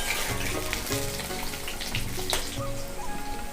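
Potato pieces frying in hot oil give a dense, continuous close-up sizzle with crackling spatters, steady in loudness across a few seconds alongside a faint low background hum.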